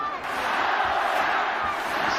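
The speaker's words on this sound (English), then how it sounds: "Listen to the home crowd now." A home crowd at a boxing match between Naoya Inoue and Nonito Donaire roars steadily, a dense, loud wash of cheering and shouting from a big arena audience.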